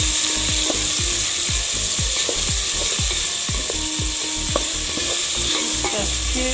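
Onions sizzling in a pan for a Comorian chicken curry with tomato, stirred steadily with a utensil, giving a rhythmic series of scraping clicks over a continuous frying hiss, close and fairly loud, no talking.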